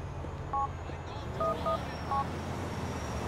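Phone keypad dialing in the GTA IV video game: a handful of short, clear dual-tone beeps in an irregular sequence over quiet low traffic-like ambience, with no speech.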